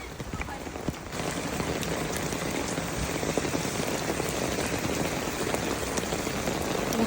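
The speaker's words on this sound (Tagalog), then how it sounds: "lakas ng ulan." Heavy rain pours down steadily in Japan, a dense, continuous hiss of drops hitting surfaces close by.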